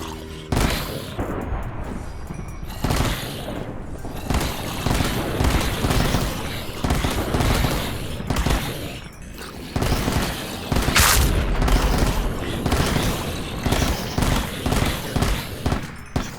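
Powered automatic turrets from Minecraft's Super Bee Warfare mod keep firing in loud, rapid bursts, with heavy booms and mechanical clatter layered throughout.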